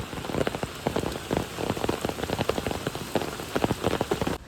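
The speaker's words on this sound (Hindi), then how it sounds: "फिर से बारिश स्टार्ट हो चुकी है" Steady rain drumming on a nearby surface on a mountain trek in Nepal, dense irregular patter of drops, loud and continuous without any voices.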